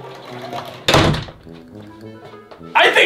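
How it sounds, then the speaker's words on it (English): A door swings shut under an automatic door closer gadget, ending in a single loud thunk partway through, with people talking before and after the impact. "This one is an automatic door closer."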